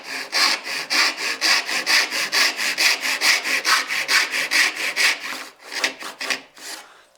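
A hand saw cuts a dovetail into wood with steady, close back-and-forth strokes, about twenty rhythmic rasps in a row that slow into a few separate pulls near the end.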